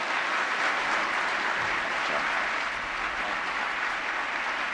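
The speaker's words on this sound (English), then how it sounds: "Getting a standing ovation from some in the crowd there" A crowd gives Mitt Romney a standing ovation at the Clinton Global Initiative, producing loud, dense, sustained applause that stays steady throughout with no voices over it.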